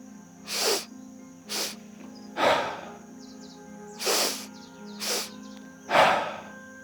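Breathwork pattern of two nasal inhales, a long one then a shorter one, followed by an exhale through the mouth, repeated twice in a steady rhythm; close, breathy and hissy, with no talking.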